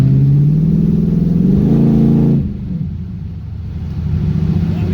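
A 1979 Pontiac Firebird Formula with a swapped LS 4.8 V8 and Borla mufflers, loud and close, revving up with a rising exhaust note, then dropping to a lower rumble and building again, with no talking.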